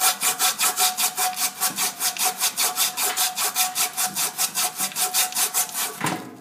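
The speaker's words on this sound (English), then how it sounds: "I'm going to take sandpaper, and I'm going to sand this as close as I can to the shaft here" Sandpaper rubbed back and forth on the shaft of an ECM motor, a steady, loud rasping rhythm of about thirty close strokes that ends abruptly.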